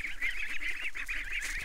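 A goose honks repeatedly in quick succession, a run of nasal calls close by and moderately loud, with no talk.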